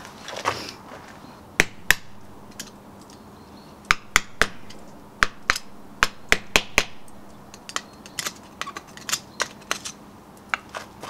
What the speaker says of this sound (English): banging the end of it with a hammer